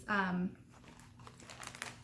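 A plastic bag crinkles and rustles close by in a short burst after a brief tonal sound, then fades to quieter handling.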